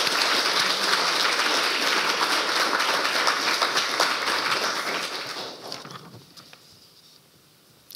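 Applause from an audience at a youth council and youth parliament election results event, loud sustained clapping that gradually fades out over several seconds, with no talk.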